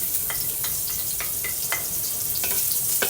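Garlic sizzles steadily in hot cooking oil in a pan, a constant bright crackle with occasional sharper pops and light stirring clinks, and no talk over it.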